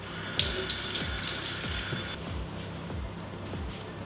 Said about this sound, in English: I'm just gonna set that aside, wash the oil off my hands.